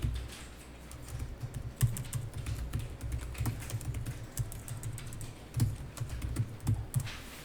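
Steady typing on a computer keyboard during an accounting exercise, with quiet irregular key clicks and a few heavier taps like the enter key, close and alone with no voices.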